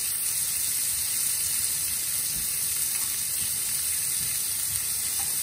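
Monkfish pieces frying undisturbed in a hot pan, a steady, close, even sizzle with soft crackles and no voices.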